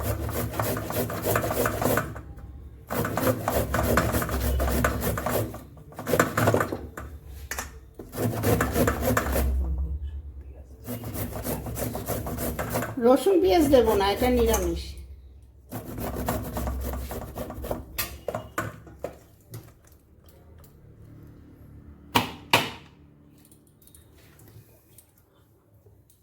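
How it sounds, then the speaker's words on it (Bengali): Fresh ginger rasped against a kitchen grater for a vegetarian filling, heard as repeated gritty scraping strokes in steady bursts with short pauses, close and fairly loud, while someone talks in between. "আদাটাও আমি এর সাথে গ্রেট করে নিচ্ছি"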